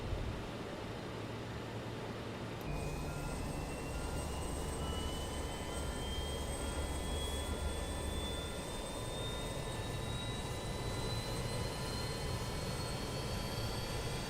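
Spooling up in a flight simulator, an RJ100 jet engine starts with a sudden shift into a rising whine that climbs steadily in pitch over a constant roar, steady and unbroken throughout.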